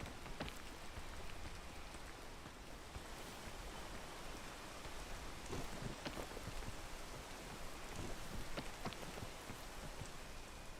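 Steady rain in the survival climbing game PEAK, a dense, even hiss of drops pattering on surfaces with occasional sharper splats, continuous and moderately quiet with no talking.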